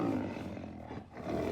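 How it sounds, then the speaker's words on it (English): A tiger roar played back through a Google Home smart speaker, one sustained, rough, growling roar filling the short clip at steady loudness with no talk over it. "hey Google, what sound does a tiger make?"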